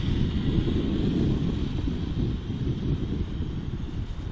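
Wind buffeting a microphone outdoors around a drone flight, a steady low rumbling roar that holds throughout, with no voices.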